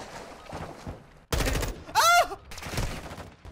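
Gunfire bursts in a military-style video game, two loud, close volleys in quick succession separated by a short gap, with quieter game sounds before and after.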